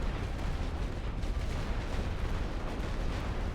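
Distant artillery barrage in a WWI video game depicting the Second Battle of Ypres, a faint continuous rumble of overlapping booms with no distinct individual blasts.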